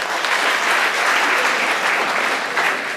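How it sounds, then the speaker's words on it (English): Steady, dense applause from a conference audience at an inauguration ceremony, close and evenly sustained throughout with no talk. "I expect a big applause for Dr. Chinmaya Sir."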